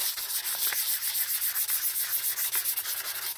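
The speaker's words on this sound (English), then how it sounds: "you're just going to sand your tumbler and just scuff it up" Steady, continuous scraping of sandpaper scuffing a stainless steel tumbler, a dry, broadband rubbing with rhythmic strokes, close and alone with no voices.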